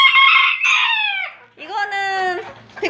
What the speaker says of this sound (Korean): 백봉오골개 소리입니다.